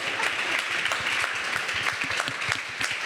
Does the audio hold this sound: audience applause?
yes